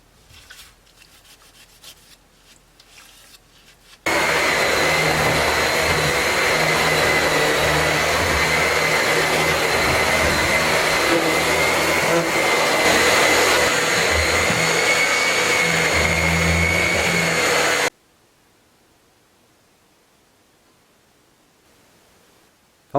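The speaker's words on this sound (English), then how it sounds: "so I'm going to vacuum" A vacuum cleaner in a farmhouse starts up abruptly after a quiet stretch, drones steadily and loudly at close range for around fourteen seconds, then cuts off into near silence.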